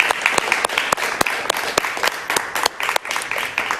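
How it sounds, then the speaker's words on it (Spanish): Studio audience on a television talk show applauds with crisp, distinct claps standing out within a steady wash of clapping for a few seconds. "Un aplauso para ella, por favor."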